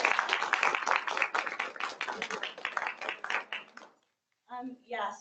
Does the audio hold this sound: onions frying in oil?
no